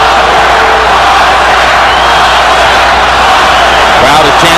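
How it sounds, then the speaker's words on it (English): Boxing arena crowd at a middleweight title unification bout, a loud continuous roar of many voices chanting and cheering, steady and dense throughout with no pause. "Crowd is chanting, Oscar, Oscar, Oscar."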